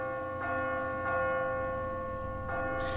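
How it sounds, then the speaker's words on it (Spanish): A deep bell tolls in a video game, a few slow, resonant strikes with long sustained ringing tones overlapping one another, moderately loud and heard alone. "Está sonando la campana del abismo."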